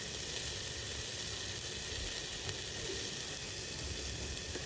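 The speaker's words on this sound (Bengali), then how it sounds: "এখন আমি তেলের মধ্যে পেঁয়াজগুলো দিয়ে দিলাম" Onions fry in hot oil in a pan while a spiced fish-roe and potato curry is cooked, giving a steady, close, continuous sizzle with no talking.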